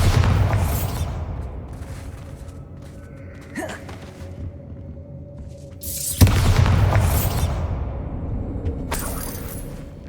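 Bombarda spell explosions in the video game Hogwarts Legacy, two loud crashing blasts with rumbling, debris-like decay, separated by a quieter magical whoosh and faint creaks.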